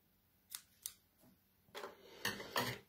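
Scissors cut paper from a Stampin' Up craft kit, giving a handful of quiet, close snips: two sharp clicks followed by a few longer crunching cuts, with no talking.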